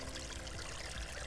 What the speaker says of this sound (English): Enjoy this little clip and the sound of the water.